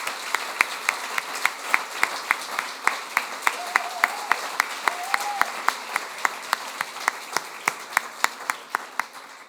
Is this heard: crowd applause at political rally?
yes